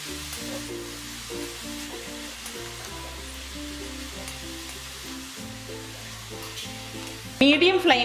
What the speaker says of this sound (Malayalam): മീഡിയം ഫ്ലെയിമിലിട്ടിട്ടാണ് ഞാനിവിടെ ഇത് ഇളക്കിക്കൊണ്ടിരിക്കുന്നത്.